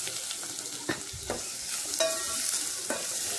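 Onions and green chillies fry in a pan while being stirred, giving a steady close sizzle broken by a few sharp scraping strokes of the spoon.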